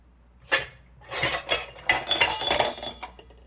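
Glassy clinks and chinks of a glass jar and utensils as milk and yogurt are poured in, several bright taps in a quick irregular cluster, close by with no talking.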